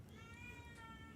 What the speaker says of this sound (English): I'm curious if you can hear my cat screaming in the background.